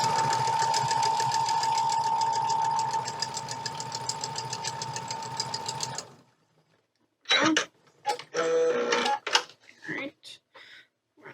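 A sewing machine stitches a quilt triangle piece, running steadily and close for about six seconds before stopping, followed by a voice speaking in short bursts.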